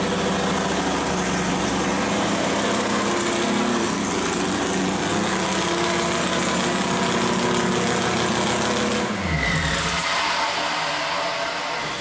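A loud three-rotor engine in a Mazda RX-7 runs continuously with a buzzy, high-revving drone, then cuts down abruptly near the end.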